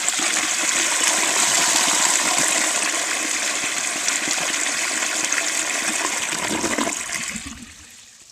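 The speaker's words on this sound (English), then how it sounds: "let's see how this flushes compared to the 1935 model" A 1936 Standard Modernus toilet flushing with a loud, steady rush of water for about seven seconds, then quickly tapering off into quiet refill trickles.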